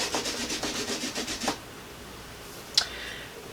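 A rubber stamp is scrubbed clean in quick, rhythmic rubbing strokes for about a second and a half, close and fairly quiet. A short scratchy scuff follows after a pause.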